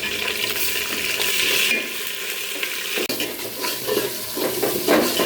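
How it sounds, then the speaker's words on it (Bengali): Garlic sizzles and fries in hot oil with onions in a pan, a loud, close, continuous crackle broken by stirring scrapes and a brief pause. "রসুনটা ভাজা হয়ে গেছে"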